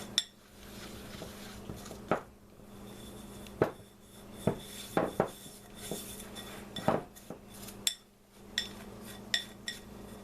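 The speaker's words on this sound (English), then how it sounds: "I just kind of take my nails or my fingers and just kind of scrape it up" Fingers and nails scraping leftover cheese biscuit dough out of a mixing bowl, with a steady run of scrapes, rubs and sharp clinks against the bowl, close up and fairly quiet.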